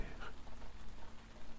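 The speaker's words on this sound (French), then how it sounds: "Une légère pluie tombe encore sur le champ de bataille." Light rain falls steadily over a battlefield, a soft continuous patter and hiss at low level with no clear individual drops, heard alone without voices.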